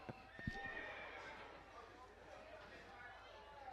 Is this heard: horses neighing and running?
yes